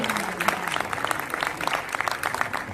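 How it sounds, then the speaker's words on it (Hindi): An audience at a student merit award and career guidance ceremony gives steady applause, a dense patter of many hands clapping at moderate volume, not very close. "इनको जोरदार तालियां।"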